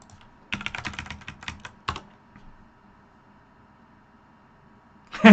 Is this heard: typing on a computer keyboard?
yes